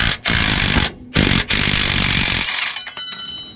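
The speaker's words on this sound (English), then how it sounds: "Just zap it with a gun." A pneumatic impact gun rattles off a 17mm strut bolt on an R31 Skyline, loud close bursts of hammering that cut out and restart, ending in a faint whirr as the bolt spins free.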